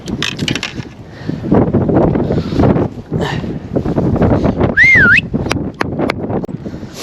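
Gusty wind buffets the microphone at a lakeshore during a fishing outing in cold, icy conditions, a loud and steady roar that keeps rising and falling, with scattered knocks and rustles mixed in.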